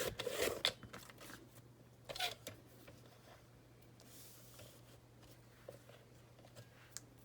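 Scissors cutting paper scraps for a mini clipboard, a couple of quick close snips and paper rustles near the start, then quieter handling and faint ticks.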